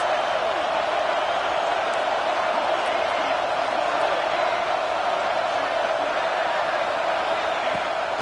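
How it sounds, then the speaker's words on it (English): Steady roar of a stadium crowd in the NCAA '26 college football video game, a dense wash of cheering that holds at an even level throughout, rising behind the defense on a third down. "Big 3rd down as the crowd gets behind this defense"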